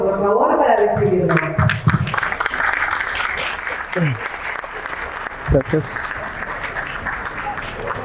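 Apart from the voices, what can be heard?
audience applause welcoming a speaker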